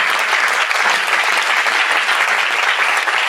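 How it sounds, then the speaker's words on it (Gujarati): Audience applauding Ranchhodlalbhai at a Swaminarayan devotional gathering, a dense, steady wash of many hands clapping that stays loud and unbroken throughout, with no voices over it. "રણછોડલાલભાઈને તાળી પડાય કે ના પડાય?"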